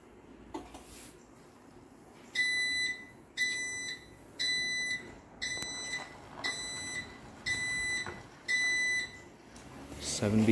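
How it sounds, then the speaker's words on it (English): Seven shrill electronic beeps, an error code from a Linear LDCO850 garage door opener, sound in a steady, evenly spaced series, each about half a second long, fairly close and alone. "Seven beeps, seven flashes."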